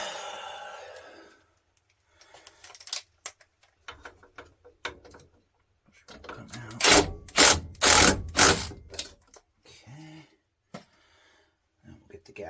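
Power drill driving a single screw to tack an inducer motor in place during an HVAC furnace repair, short bursts of whirring that rise loudly in the middle, with someone talking before and between.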